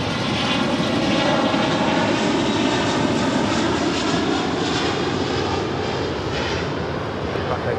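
A jet airliner powers up for takeoff on runway 25 Left at LAX, a loud continuous engine roar that stays steady and close for the whole stretch.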